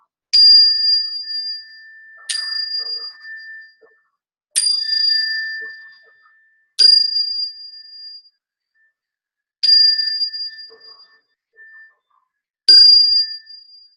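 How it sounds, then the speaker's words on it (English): Meditation chimes rung six times in a quiet room, each a bright clear ring that decays slowly, spaced about two seconds apart with silence between strikes. "Now I'm going to do the chimes"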